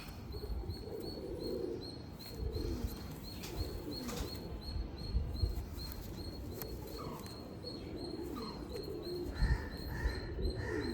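Pigeons of a good lineage in a loft in Bangalore coo in repeated soft, low phrases, with occasional wing flaps and a few chirps, fairly quiet and close, with a steady faint tone underneath.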